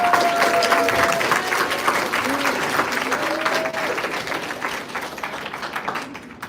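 An audience applauding at a school music honor society ceremony, sustained clapping from a crowd that stays loud and then slowly thins out.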